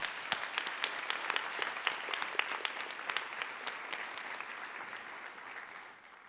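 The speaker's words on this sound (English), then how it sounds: "please join me in one final round of applause" A round of applause for academic award winners at a 2022 senior recognition ceremony, steady clapping from a moderately distant crowd that fades out toward the end.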